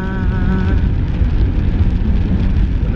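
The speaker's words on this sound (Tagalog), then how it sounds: "Tuloy ang ulan." Rain falls steadily outside a house, a loud, unbroken wash of drops with a low rumble and a faint tonal hum in the first second; nobody speaks.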